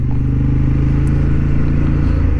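Honda Hornet 750 motorcycle engine idling along at low revs, around 2000 to 3000 RPM in fourth gear, on a racing track; a steady, loud, close-up rumble with an even pulsing throb throughout.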